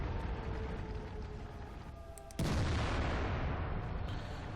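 A heavy boom from an FV304 self-propelled artillery gun firing in the World of Tanks video game, a single loud blast with a sustained rumbling tail over game ambience.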